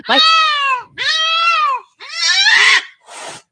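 A cat lets out four loud, drawn-out yowls in a row, wavering and harsh, the last one shorter and rougher, close by with no talking.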